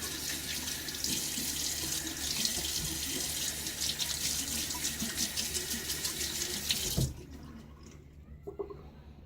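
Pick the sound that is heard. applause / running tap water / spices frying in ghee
running tap water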